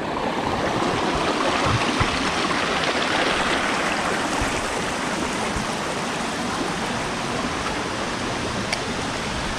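Tinakayanan Falls pours in a steady, dense rush of falling water, close and loud, continuous throughout with no voices.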